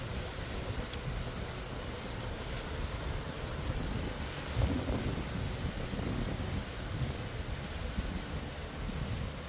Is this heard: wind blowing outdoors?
yes